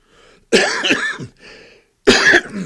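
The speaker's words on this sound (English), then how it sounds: "the cough is a part of what I've had going on as well" Two sharp coughs, close and loud, separated by a short pause, with a softer throaty sound between them.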